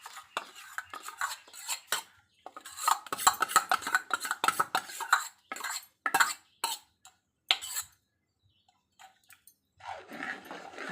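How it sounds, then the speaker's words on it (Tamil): Dal being stirred into banana stem and cabbage in a cooking pan, heard as a close series of irregular metal spoon scrapes and clinks with short pauses between strokes. "அதையும் நல்லா சேர்த்து நல்லா கிண்டிக்கணும் ஃப்ரெண்ட்ஸ்"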